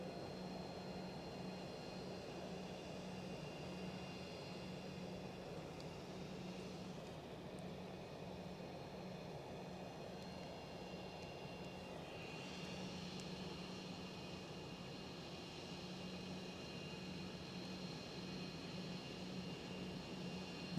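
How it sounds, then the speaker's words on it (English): A passenger jet, such as an easyJet airliner, landing at Edinburgh Airport, heard as a faint, steady distant engine rumble and roar with a constant hum, no voices. "One smooth landing after another"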